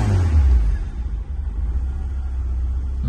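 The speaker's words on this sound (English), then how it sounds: "Just over half a tank of fuel in it as well, ticking over there nice and quietly." A 1991 Ford Fiesta XR2i engine idles close by with a steady low rumble throughout, a little heavier at the start and then settling into an even tick-over with nobody talking.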